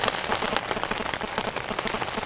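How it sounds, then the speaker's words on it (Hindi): Steady rain pattering densely on a surface nearby during a winter night in the Uttarakhand mountains, an even wash of drops with no voices. "फिर से बारिश स्टार्ट हो गई"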